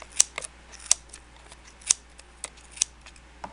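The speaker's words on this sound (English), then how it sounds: "You're just going to slide your scissors up that groove and snip your yarn." Scissors snip through yarn on a pom-pom maker in a series of crisp, light clicks, several distinct cuts spaced irregularly, close and quiet against a still background.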